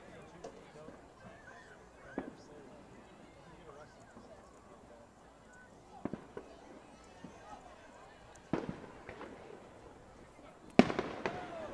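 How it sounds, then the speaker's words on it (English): Fireworks go off in the distance during a summer baseball game, giving scattered sharp pops and bangs, the loudest near the end, beneath an announcer's running commentary. "You guys can hear the fireworks that have been going on since, about 8:30, 9 o'clock."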